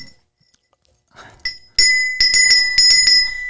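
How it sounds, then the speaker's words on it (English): A small bell is rung several times in quick succession, bright metallic rings, close and fairly loud, after a few faint handling knocks. "What have you done to that poor bell?"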